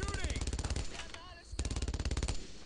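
Rapid machine gun fire from the World War II shooter game Brothers in Arms: Road to Hill 30, two loud, close, rattling bursts separated by a short gap, with faint voices underneath.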